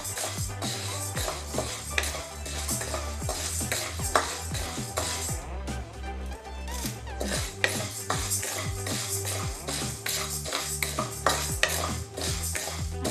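Ingredients for instant idli are lightly fried and stirred in a pan, with repeated metallic scrapes and clinks of a spoon against the pan in an uneven rhythm over a soft background sizzle.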